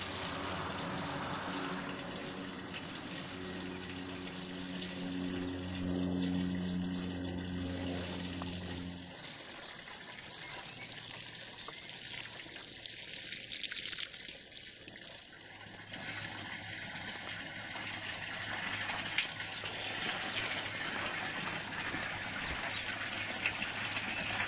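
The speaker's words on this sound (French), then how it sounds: "il n'y a plus qu'à arroser" Water streams steadily for a long stretch while a newly planted vegetable garden is watered, a continuous hissing flow with slight shifts in tone partway through.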